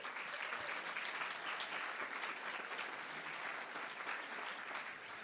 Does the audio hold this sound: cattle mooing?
no